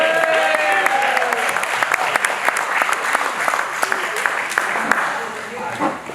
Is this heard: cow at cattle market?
no